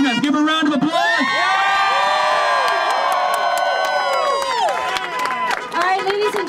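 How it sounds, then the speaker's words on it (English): A crowd at a charter school teachers' strike rally cheers loudly, with whoops, shrill shouts and scattered clapping blending into a continuous roar that stays strong throughout before easing slightly near the end. "Give her a round of applause."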